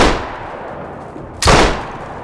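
A single heavy big-game hunting rifle shot from a large stopping gun in theHunter: Call of the Wild, sharp and loud at close range, breaking over quiet outdoor ambience and ringing off briefly.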